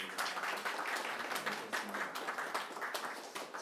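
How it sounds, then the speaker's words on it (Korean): A church congregation at Sunday worship claps in welcome, a dense, steady patter of many hands that lasts throughout at moderate, somewhat distant loudness. "박수로 환영하겠습니다."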